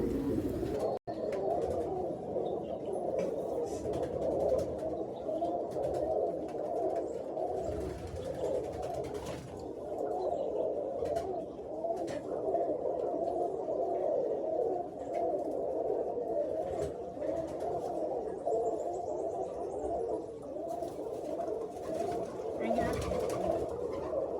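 A flock of kept pigeons coos steadily in a loft, overlapping low throaty calls forming a continuous murmur, with occasional chirps and a brief sharp knock early on.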